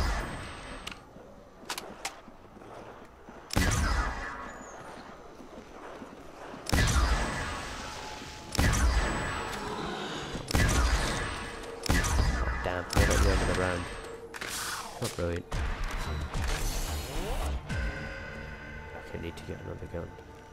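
The ray gun fires in Call of Duty: World at War Zombies in sharp, loud bursts spaced a second or two apart over a quieter background, with someone talking in between shots.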